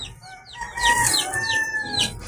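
Chickens and chicks in a garden give a close, loud run of clucks and cackles with high chirping peeps and a crowing-like call, overlapping continuously, with no talk.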